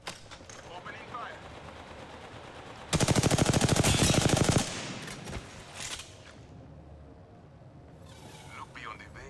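Video game gunfire: a loud, rapid automatic burst of shots lasting about two seconds, set among quieter game sounds and faint murmured talk before and after.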